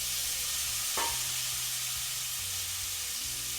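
Sausage sautéing in a pan, a steady close sizzle and hiss with a brief stirring scrape partway through, no talking.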